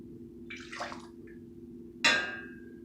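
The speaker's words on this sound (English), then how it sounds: "I'm just gonna get it ladled into my jar" Homemade grape jelly ladled into a hot glass jar: a soft, brief wet slosh, a pause, then one sharp, ringing clink of the ladle against the jar that fades slowly against a low background hum.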